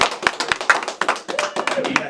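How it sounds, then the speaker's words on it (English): Audience members clap for a guest on a radio show, sharp irregular handclaps from a small group close by over about two seconds, with talk over them. "if y'all don't mind giving a round of applause for today"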